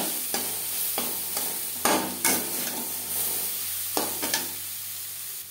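Coconut and vegetables stirred and fried in a pan over a medium flame for Bengali motor dal, a steady sizzle under sharp spoon scrapes and knocks against the pan, close and alone.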